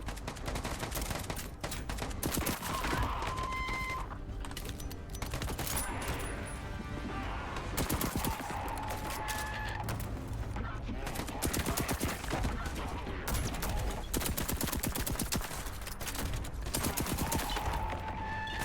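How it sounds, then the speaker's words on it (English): Rapid bursts of gunfire from a gun in the video game Voidtrain, cracking steadily and dense throughout over a busy game soundscape with music-like tones. "I have an extremely powerful weapon. It is called a gun."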